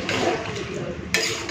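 Water poured into a pan of lightly fried potato, eggplant, pumpkin and Malabar spinach stems, giving a brief close hissing sizzle with a sharper splash of liquid hitting hot oil near the end.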